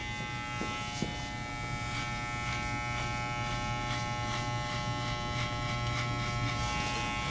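Electric hair clippers fitted with a 0.5 guard buzz steadily and loudly throughout while cutting a number 1 fade in an Afro-centric haircut, with faint strokes through the hair over the constant hum.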